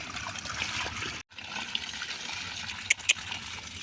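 Water running from a tap, a soft steady trickle and splash with a brief break and a couple of small knocks, fairly quiet and without talking.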